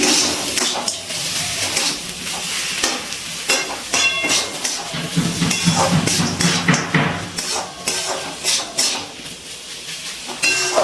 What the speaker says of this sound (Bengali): ভাজা বড়িটা ভালো করে মিশিয়ে নিচ্ছি